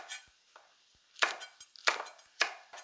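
A knife chops green onion into short lengths on a cutting board for tteokbokki, a few soft cuts and then several louder, crisp chops spaced irregularly, close and clear with no talking.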